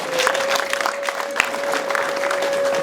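Audience applause at a wedding ceremony, a steady wash of clapping from a crowd, fairly loud and continuous throughout, with a sustained musical tone running underneath.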